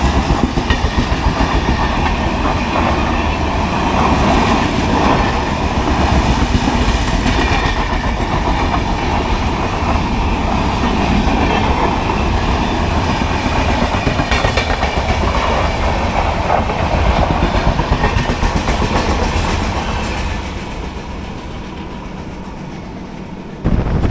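The Mandovi Express runs along the Konkan Railway with a loud, continuous roar and rapid clickety-clack of wheels over rail joints, heard from on board and easing slightly near the end.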